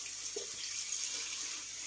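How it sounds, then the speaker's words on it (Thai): Water sprinkles onto wilting vegetable plants in a hot rural garden, a faint, steady hissing spray with a few soft splashes and no talking. "พรมน้ำไม่งั้นเหี่ยวหมดเลยนะเนี่ย"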